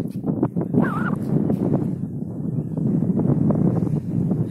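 Strong wind blowing across a beach on the Sea of Azov buffets the microphone with a continuous low rumble; a brief bird call rises early on.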